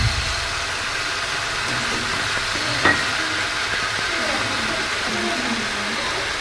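Spice paste goes into chicken frying in oil for Bengali chicken kosha, a steady hiss and sizzle with a brief stirring clatter midway, under a voice.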